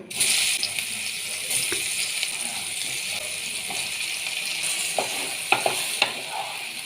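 Eggplant pieces coated in turmeric frying in oil in a pan, a bright, continuous sizzle that flares loudly at the start, with occasional stirring knocks and clinks toward the end.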